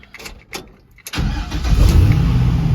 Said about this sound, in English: I'm gonna fire this up.